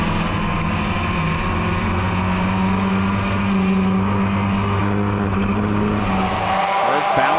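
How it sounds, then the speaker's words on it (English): A field of race cars roars away after the green flag, a loud, dense wall of engine noise from many cars at once, with a commentator talking over the din. "Cars bouncing around."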